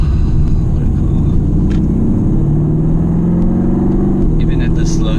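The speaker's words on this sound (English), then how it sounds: "Even at the slow speed, 4th gear, you can just enjoy the sound of the engine" Mercedes-AMG GT-R Pro engine at slow speed in fourth gear, a loud, steady deep rumble held close throughout, with the pitch rising slightly toward the end.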